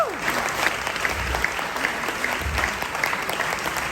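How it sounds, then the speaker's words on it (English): A fundraising gala audience gives a round of applause, dense clapping from a large crowd, loud and sustained throughout with scattered cheers mixed in. "let's give one more round of applause"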